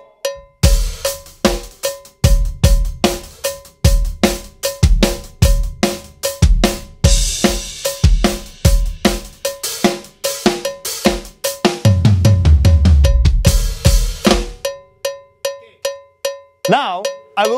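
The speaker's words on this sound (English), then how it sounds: "This is my click from the SPD-SX." A Roland SPD-SX drum pad plays a loud, sharp metronome click in a steady, regular pulse, with drum hits layered over it in places and a short wavering tone near the end.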